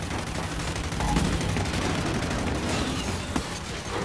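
Dense, continuous gunfire from target practice in a Gears video game, with rapid overlapping shots forming a loud, sustained barrage and a few sharper cracks standing out.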